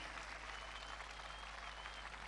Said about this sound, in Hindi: give a big clap for the nation of India everywhere, everybody.